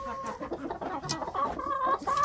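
A big rooster clucks in short, throaty bursts close by, a brief run of farmyard calls with no one talking.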